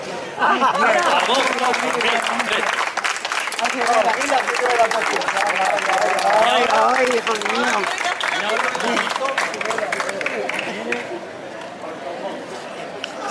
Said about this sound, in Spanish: Vaya nuestro aplauso y la mayor felicitación de todos los que componemos NUME, la redacción.